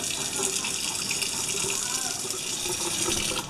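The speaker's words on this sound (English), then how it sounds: "Let me wash my hands." A kitchen tap runs steadily while hands are washed during home cooking, a continuous close hiss and splash of water throughout, with a faint voice briefly beneath it.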